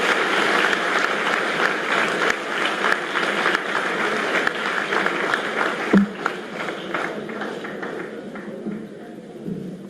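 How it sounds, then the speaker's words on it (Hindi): Audience applause welcoming Dr. Shailendra Jain at the inauguration of the Turyanaad-25 event at MANIT Bhopal, a steady dense clapping from a large crowd that fills the hall for the full stretch, with a brief louder thump midway. "आप सभी की तालियों के बीच स्वागत होना चाहिए"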